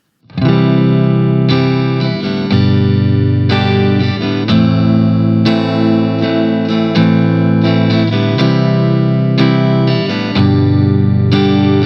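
A guitar strums a steady progression of full chords, with a new chord struck every second or two, loud and close, with no voices.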